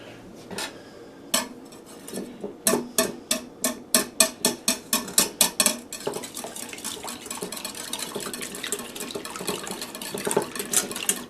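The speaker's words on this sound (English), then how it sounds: "manual egg beater technique" Two eggs whipped in a bowl with a manual egg beater, starting with a few clinks, then a quick run of rhythmic metallic taps against the bowl, before settling into a continuous close, busy whirring and clatter.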